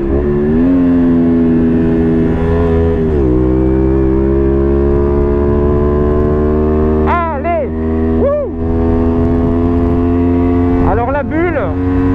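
A Honda Varadero 125 motorcycle engine revs hard above 9000 rpm in a steady, loud, buzzing drone on the road, with a few brief pitch dips at gear changes and a rider's voice speaking over it.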